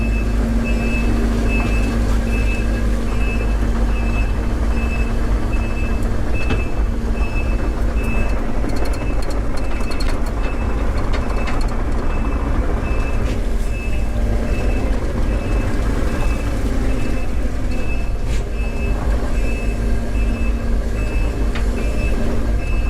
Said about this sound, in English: that beeping sound, which is to make people aware that this heavy piece of equipment is moving around